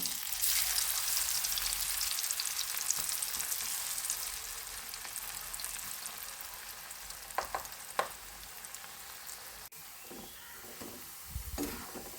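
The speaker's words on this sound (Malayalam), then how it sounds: "അങ്ങനെ കോവയ്ക്കെല്ലാം നമ്മൾ വറുത്തെടുത്തു" Ivy gourd pieces fry in oil with a soft, continuous sizzle, broken by occasional clinks and scrapes of a spatula stirring the pan.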